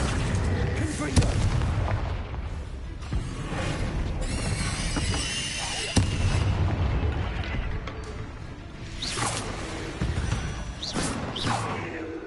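Spell blasts from Bombarda and Confringo in the Hogwarts Legacy video game, a series of booming explosions with whooshes and shattering debris spread over several seconds, fairly loud, with spoken incantations mixed in.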